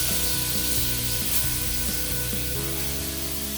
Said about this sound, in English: That's going to be a really good sear.